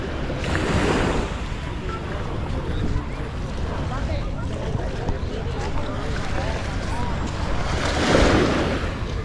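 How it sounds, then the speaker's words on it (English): Surf washes onto Karon Beach in Phuket, Thailand, where long-tail boats sit in the shallows, a constant near roar of waves and wind with swells at the start and near the end. "I just love these long tail boats"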